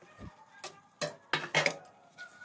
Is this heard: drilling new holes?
no